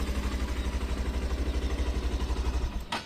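A 2025 Hero Super Splendor 125 Xtec BS6.2 motorcycle engine idling steadily and close, with an even low chugging pulse for about three seconds before a brief click near the end.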